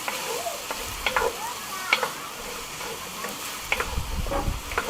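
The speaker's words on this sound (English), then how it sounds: "you're just going to mix it in with the vegetables. Make sure you coat it everywhere a little bit." Tomato paste and vegetables fry in a Dutch oven under a low hiss of sizzling. A spoon clacks and scrapes at intervals as the mixture is stirred and coated. No one talks.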